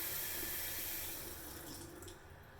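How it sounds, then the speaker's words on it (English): A running tap with water splashing over hands at a sink, a steady close hiss that fades slightly toward the end. "Sorry, I touched my face. Wash my hands."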